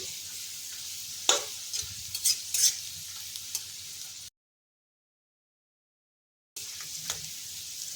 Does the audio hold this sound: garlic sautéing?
yes